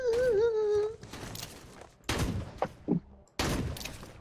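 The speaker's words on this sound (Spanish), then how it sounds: "Yo no sé si la bala nos llega, pero le disparo" Gunfire in the mobile battle royale game Rules of Survival: a few sharp, loud bursts separated by pauses, following a wailing tonal sound at the start, with little else around them.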